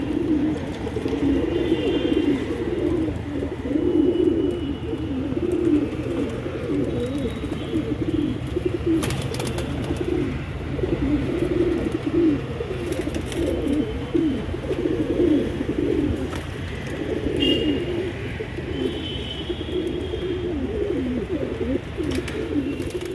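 Pet pigeons coo continuously at close range in a loft, a dense, low burbling chorus of overlapping calls with a few faint higher chirps, and no talking.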